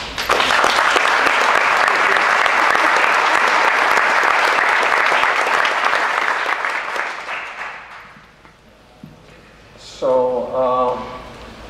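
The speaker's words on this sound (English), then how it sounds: "I really appreciate applause for that whole team." Sustained audience applause at a press conference, full and close for about seven seconds, then fading out to quiet, with a voice speaking afterward.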